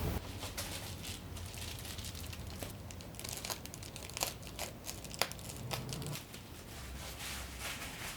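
Reflectix foil bubble insulation crinkles and crackles as it is cut and handled to make a car window cover. The rustling is soft and continuous, with a few sharper crackles and no talking.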